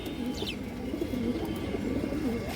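Domestic pigeons cooing at a pigeon farm where eggs and birds are sold, a steady low murmur of overlapping coos close by with a brief higher chirp near the start.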